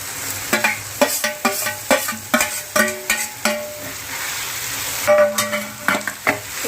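Grated carrot and beetroot stirred into oil and cooked tomato in a pan, with a spoon knocking and scraping the pan in a regular rhythm of sharp clinks over a soft sizzle, close by and with no speech.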